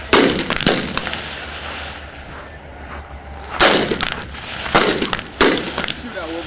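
Rifle shots crack out on an Army shooting range at Fort Leonard Wood, several sharp loud reports spaced a few seconds apart over steady outdoor background noise.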